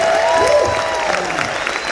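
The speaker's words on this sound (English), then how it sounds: "how about a huge round of applause for our men and our women that serve this country" A cruise ship audience at an 80s-themed music Q&A bursts into a thick wash of applause and cheering, loud and sustained for a couple of seconds, with a faint whistle-like tone over the crowd.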